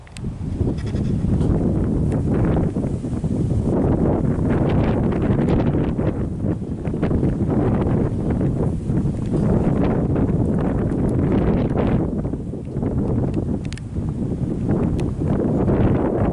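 Hot, strong wind blows during a California wildfire in Pope Valley. Loud, continuous gusts batter the microphone for the whole stretch and bury everything else in a dense roar that never lets up.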